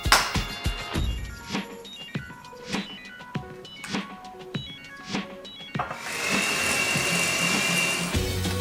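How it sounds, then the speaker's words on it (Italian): Electric hand mixer whirring as it beats butter, sugar and egg for Kit Kat cupcake batter, starting with short pulsed bursts and knocks against the bowl, then settling into a steady continuous whine near the end. "in un'altra ciotola montiamo il burro con lo zucchero"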